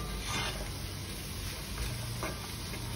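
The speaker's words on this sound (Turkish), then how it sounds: "Sıvı yağda mantarları sürekli karıştırarak suyunu salana kadar" Sliced mushrooms sizzle in vegetable oil in a pan while being stirred continuously, a soft steady frying hiss with light scraping strokes of the utensil.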